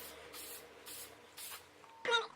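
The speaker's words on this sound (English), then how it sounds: "lean my hair a little bit forward, spray it just lightly over the top" Hairspray is misted lightly over the top of the hair in several short, soft hissing bursts evenly spaced, ending with a brighter, slightly louder puff, all close and quiet.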